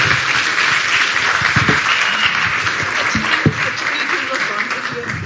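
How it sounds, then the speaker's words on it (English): An audience applauds an attorney general at a public event: steady, dense clapping that stays fairly loud throughout, with a few sharper individual claps standing out. "Let's give Attorney General Rob Motto a round of applause, please."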